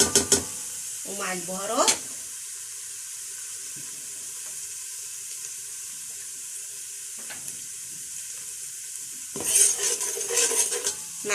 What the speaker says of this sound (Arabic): اقلب التومه كده كويس في الزيت